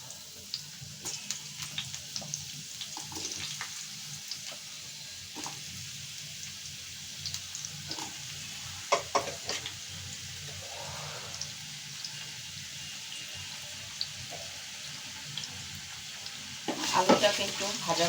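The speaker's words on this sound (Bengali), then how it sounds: "তেল গরম হয়ে গিয়েছে। এখন আমি আলুগুলো দিয়ে দিচ্ছি।" Potatoes fry in hot oil in a wok, giving a constant crackling sizzle with scattered sharp pops and a louder burst of spattering and stirring near the end.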